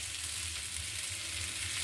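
Sliced bitter gourd (karela bhaji) fries in a pan with a soft, even sizzle, faint and continuous with no voices.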